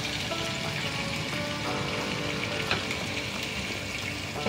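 Sausages fry in a pan with a steady, dense, close sizzle and crackle that continues evenly throughout, with no voices.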